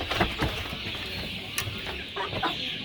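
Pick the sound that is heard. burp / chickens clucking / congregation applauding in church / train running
chickens clucking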